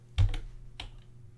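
A few quick clicks of computer keyboard keys as code is typed: a close pair of taps followed by one more keystroke, crisp and near, in a quiet room.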